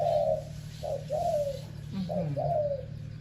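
Small mountain songbirds in training give soft, rolling coos in short phrases, a few calls in quick succession over a low background hum.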